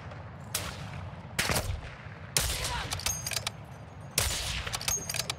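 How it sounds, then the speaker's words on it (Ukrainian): Bursts of gunfire crack out in Call of Duty Modern Warfare II DMZ, several separate volleys spaced a second or so apart, at moderate distance over a low game rumble. "Вони там стріляються між собою."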